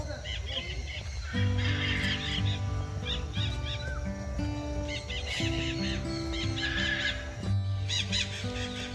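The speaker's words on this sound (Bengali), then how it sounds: "আপনারা হয়তো সেই পাখিদের আওয়াজগুলোও পাচ্ছেন" Many birds call and chirp at once in a busy, overlapping chorus in a large aviary at Parmadan Forest, with low voices murmuring underneath throughout.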